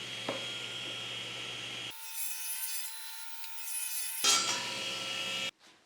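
A miter saw cuts long 4-inch strips from a sheet of MDF, giving a steady loud whirring rasp that changes pitch partway through the cut and then stops abruptly.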